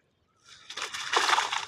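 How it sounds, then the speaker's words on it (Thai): Water flowing and sloshing in a rice paddy, a short burst of splashing that starts from silence and swells louder, close by. "น้ำไหลเลย"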